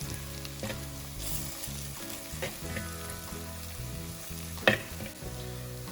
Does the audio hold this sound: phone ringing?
no